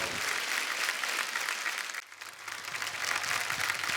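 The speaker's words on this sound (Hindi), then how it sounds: "जोरदार तालियां" A studio audience at a comedy show claps loudly and continuously, a dense wash of applause that dips briefly midway before swelling again.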